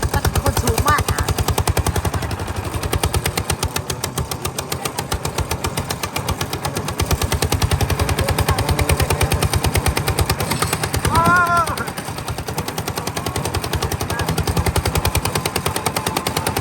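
A tractor engine chugs steadily at close range, a rapid low knocking rhythm running throughout with no letup.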